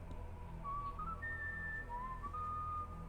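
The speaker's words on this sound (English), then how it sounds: "He whistles the theme tune even." A video game character whistles the Indiana Jones theme tune, a clear melodic whistle rising and falling in short phrases over a low background hum.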